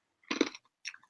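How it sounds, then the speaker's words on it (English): Ice from a glass of water is crunched between the teeth in one close, sharp bite, followed a moment later by a smaller second crunch. "I'm eating the ice"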